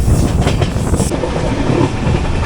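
The 12201 Garib Rath Express, Mumbai LTT to Shoranur, runs along the Konkan Railway with a loud, continuous rumble and rolling wheel clatter heard from onboard.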